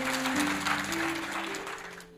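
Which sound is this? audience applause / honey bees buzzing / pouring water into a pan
audience applause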